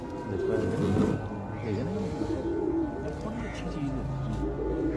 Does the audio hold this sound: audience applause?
no